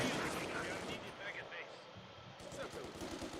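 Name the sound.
mortar and gunfire in Company of Heroes-style video game battle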